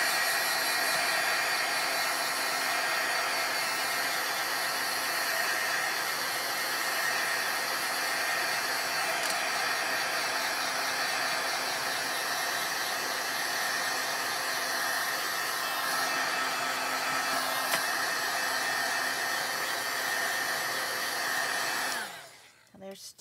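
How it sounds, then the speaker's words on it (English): Heat gun blowing hot air onto a stamped card panel, a steady, loud, close hiss-and-whir that runs unbroken for over twenty seconds before cutting off at the end. "now I'm going to take my heat gun to it and"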